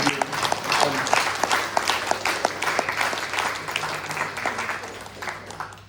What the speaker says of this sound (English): Once again, I want you all to give an applause to the Rukmani and Vittala.